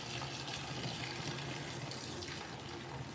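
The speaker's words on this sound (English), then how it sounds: "Okay, it's adding more water." An LG WT5480CW top-load washing machine filling with water, a steady, loud rushing hiss of water pouring into the drum that runs unbroken throughout with no talking.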